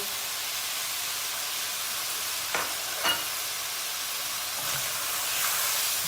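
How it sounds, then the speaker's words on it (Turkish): Peppers dusted with flour are stirred in a frying pan, giving a steady, moderately loud sizzle with a few short scraping strokes of the utensil, no talking. "Bunu şöyle bir karıştıralım"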